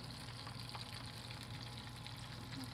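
Steady close sizzling of spring rolls frying in a pan, a continuous crackling hiss with small pops, no talking.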